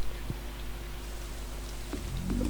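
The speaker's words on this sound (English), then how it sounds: "Yes, it's raining again." Steady rainfall from the farming game Stardew Valley forms a soft, even patter with a faint low hum beneath, joined by a few small clicks and taps near the end.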